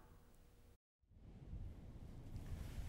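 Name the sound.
giant waves crashing over coastal road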